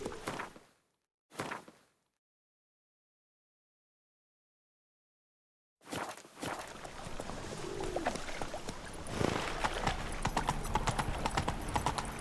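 Horse hooves clop on the ground in The Witcher 3: Wild Hunt, two brief bursts that fall silent and then a dense, continuous run of hoofbeats as other game sounds build up around them.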